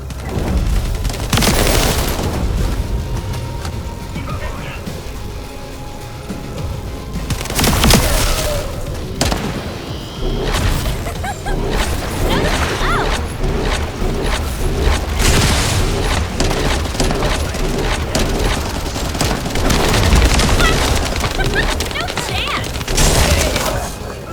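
Turret gunfire and explosions in The First Descendant video game, sustained loud bursts with booms and debris crackle throughout, mixed with game music and occasional speech.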